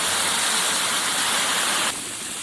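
Boiling water poured into a wok of fried cured pig trotters with garlic, ginger and rice wine, a steady loud rushing splash that drops abruptly near the end as the pour stops.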